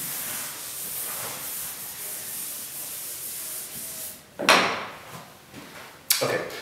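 A board eraser rubs writing off a board in a classroom maths lesson, giving a soft continuous scrubbing hiss that ends in two brief louder swipes near the close.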